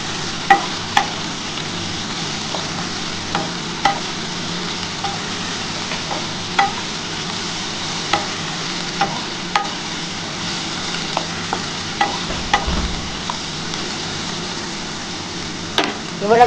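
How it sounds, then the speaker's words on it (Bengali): Bitter gourd and potato pieces fry in oil in a pan, a steady soft sizzle running throughout with occasional sharp clicks and scrapes of stirring, close and alone without talk. "আমি আর উচ্ছে আর আলুকে একটু ভেজে নিচ্ছি আগে"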